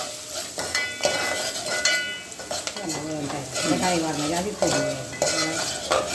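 Garlic and turmeric frying in a pot for a spicy dal, with sizzling, stirring scrapes and clinks of a spoon against metal cookware, lively and close, with a voice speaking briefly.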